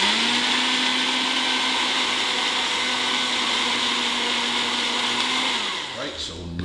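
A blender whirring loudly and steadily through watermelon chunks for margaritas, a constant close motor drone that winds down and stops near the end.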